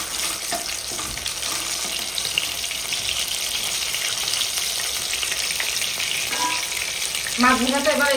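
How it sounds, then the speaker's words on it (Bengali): Rohu fish pieces frying in a pan, a steady close crackling sizzle with faint clinks throughout and a brief tonal squeak near the end. "দেখুন বন্ধুরা মাছ ভাজাটা দেখুন"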